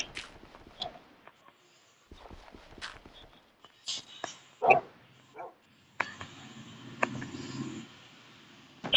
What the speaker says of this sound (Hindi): काला कुत्ता मिल गया हमको।